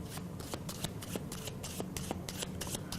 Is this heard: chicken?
no